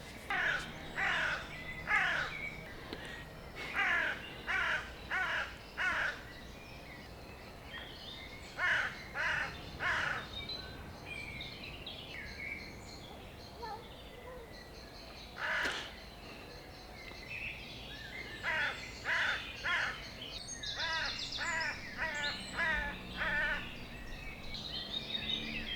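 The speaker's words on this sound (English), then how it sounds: "That bird is doing my head in." A crow-like bird caws repeatedly outdoors, loud harsh calls in bursts of three to five, separated by pauses, with quieter background ambience between the bursts.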